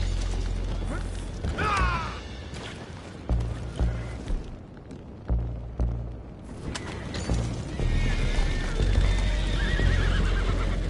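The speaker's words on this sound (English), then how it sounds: "go find out about those horses down below" Horses in the Red Dead Redemption II video game whinny loudly and repeatedly while hooves clop steadily beneath, with creaking mechanical game sounds in the background.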